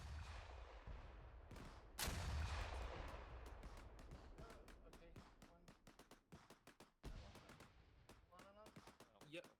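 A rocket launcher fires at a tank in a training exercise in a shooter video game: a sharp blast followed by a burst of rapid crackling gunfire and a further impact, under radio-style voices talking.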